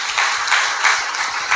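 Church congregation clapping along in a steady rhythmic pattern, with repeated bursts of hand claps at a moderate distance and no talk over them.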